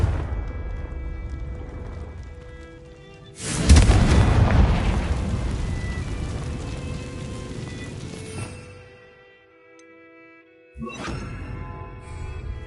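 A Confringo fire spell from Hogwarts Legacy bursts with a loud, broad explosion that rumbles for several seconds against steady game ambience, then fades, with a second smaller burst near the end.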